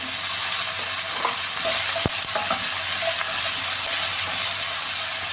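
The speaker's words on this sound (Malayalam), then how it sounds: "ഇനി ഇതിലേക്ക് ഈ അരിഞ്ഞ് വെച്ചിരുന്ന വാഴയ്ക്ക അതുകൂടി ഇട്ട് കൊടുക്കാം" Chopped raw plantain is stir-fried with onions in a hot pan for a Kerala erissery. A steady loud sizzle runs throughout, with a few soft scrapes and clicks from stirring.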